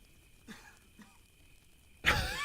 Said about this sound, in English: Just inhales smoke, starts coughing.